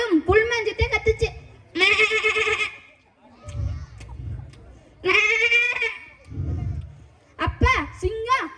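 A mimic's voice imitates a goat bleating while grazing: several quavering, nasal bleats alternate with low, rough chewing or rustling sounds, close and clear.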